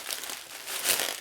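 Cardboard packing around the studs of a 1964 Harley-Davidson XLCH 900 Sportster right motor case crinkles and rustles as it is handled during unboxing, a brief close crumpling burst with no talk.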